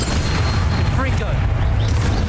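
A Confringo fire spell blast during Hogwarts Legacy combat, heard as a deep, sustained booming rumble with scattered crackles on top, loud and close throughout.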